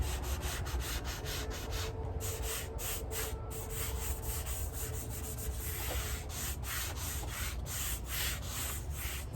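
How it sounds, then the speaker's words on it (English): Soft pastel being scrubbed into paper with a wad of insulation, a steady close, dry rubbing hiss with rhythmic back-and-forth strokes and brief pauses, no talking. "I'm going to scrub that in, rub it in with the insulation"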